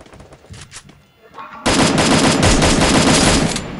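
Automatic gunfire in the Free Fire battle royale game bursts in loud and sustained after a quieter opening, a dense rapid rattle of shots that carries to the end.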